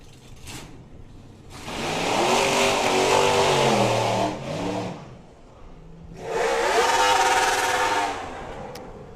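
A drag racing car at a nostalgia drag meet accelerates hard down the strip in two long, loud roaring runs, engine pitch climbing through gear changes, with a quieter gap between them.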